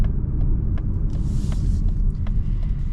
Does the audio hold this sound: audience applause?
no